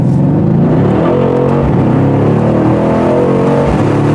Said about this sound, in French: le V8 en mode Sport Plus